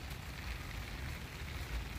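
Rainfall during a heavy downpour in Islamabad, a soft, continuous wash of falling rain with low rumbling underneath, fairly faint and steady, with no voices over it.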